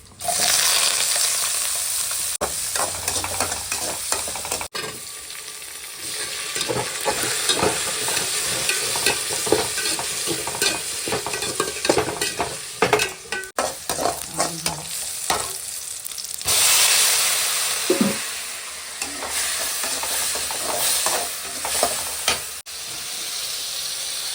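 Raw banana poriyal stir-fried in a pan, a continuous close sizzle broken by frequent spatula scrapes and clacks, with brief quieter moments and no talk.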